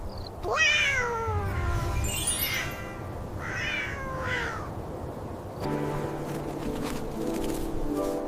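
A cat gives two long, drawn-out meows with wavering, bending pitch, close and fairly loud, over a soft background, followed by a few seconds of quieter rustling and light tapping.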